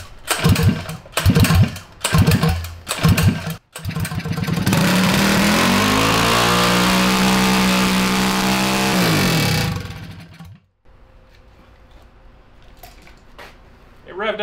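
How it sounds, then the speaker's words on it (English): A Tillotson 225cc big valve engine, a billet build, revs up high and holds a loud steady roar for several seconds before cutting off, after earlier bursts of talk, with quieter voices afterward. "It revved up kind of high."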